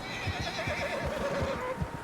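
Horses whinny in Red Dead Redemption 2 with a clear, wavering neigh rising over the rhythmic clip-clop of hooves moving close by.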